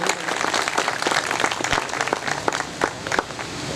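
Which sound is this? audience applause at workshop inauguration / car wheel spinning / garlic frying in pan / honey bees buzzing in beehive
audience applause at workshop inauguration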